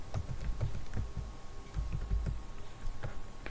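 Computer keyboard typing while entering text in Windows 11 settings, with a quick run of soft, close keystrokes in irregular clusters over a low background hum.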